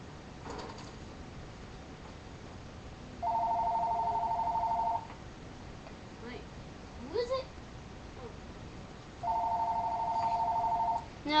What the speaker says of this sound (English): So I'm not gonna answer the phone because it's probably my friend.